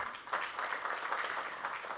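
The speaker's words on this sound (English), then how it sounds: "Ladies and gentlemen, a huge round of applause." Audience applause at a finance mentoring ceremony, a dense continuous patter of many hands clapping at a moderate distance, steady throughout with faint voices underneath.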